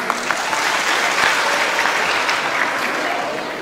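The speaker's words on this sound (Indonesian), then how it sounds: "Tepuk tangan." A school audience at a Merpati Putih extracurricular demonstration claps together, a continuous, fairly loud burst of applause that stays even throughout with a few sharper individual claps standing out.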